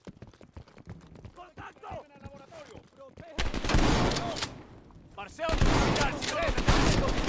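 An incendiary shotgun fires in the Call of Duty: Cold War campaign: a quieter stretch of talk and scattered sounds gives way to a sudden loud blast, then a roaring burst of gunfire and flames that swells again after a brief lull.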